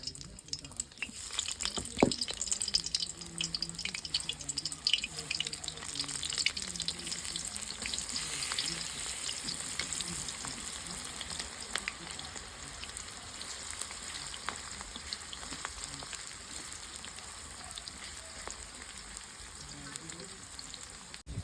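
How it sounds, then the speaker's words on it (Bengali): Chopped onion frying in hot oil for a spicy chicken leg roast, a steady close sizzle with scattered crackles and faint clinks, continuing evenly throughout with no talk. "আমার তেল গরম হয়ে গেছে আমি পেঁয়াজটা ছেড়ে দিচ্ছি"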